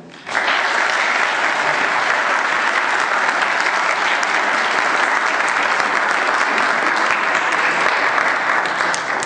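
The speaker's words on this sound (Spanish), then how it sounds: "vamos a darle un gran aplauso primero" A large audience at a Spanish-language talk breaks into loud, sustained applause that starts abruptly and holds as an even, dense roar of clapping without letup.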